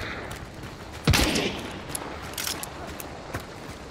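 Gunfire in Hunt: Showdown, with one loud, close shot followed by a scattered run of fainter shots and echoing reports. A low voice is heard faintly in the background.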